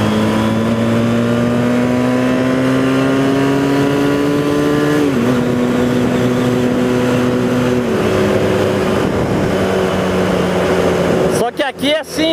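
A Honda CBR 450SR motorcycle engine drones loud and close in first gear, its pitch holding high, then dipping sharply twice as gears change, with heavy wind buffeting at the end.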